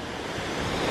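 Strong ocean waves rushing on an Australian shore, a loud continuous broadband wash with wind buffeting the microphone and no voices.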